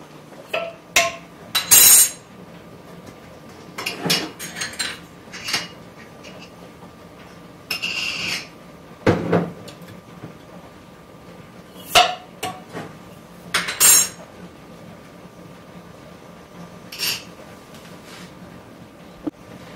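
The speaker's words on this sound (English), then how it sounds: "So let's get putting the chili beans into the food processor." Chili beans are spooned from a jar into a food processor in a home kitchen, with intermittent sharp clinks and knocks of spoon against glass and bowl between quiet pauses.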